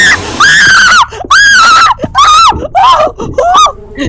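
A person playing a horror game screams several times in loud, high, wavering bursts with short gaps between them, very close and dominating the sound.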